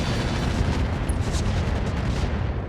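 Dense, continuous turret gunfire roars through a BattleTech match in Roguetech, a steady, loud barrage of overlapping booms with no pauses and no talking.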